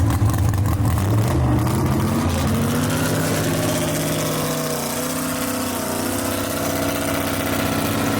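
Ted McKee's Rocky Top Missile, a B/Gas gasser drag race car with Gene Fulton power, at Kil-Kare Dragway, its big engine rumbling loud and close with rough revs early before settling into a lumpy, uneven idle.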